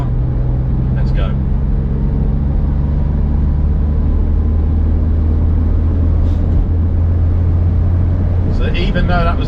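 Smart car, a very short 2.5-metre model, accelerating from 40 to 60 mph in fifth gear: a steady, loud low engine hum with a slowly rising tone and road roar throughout, heard from inside the cabin.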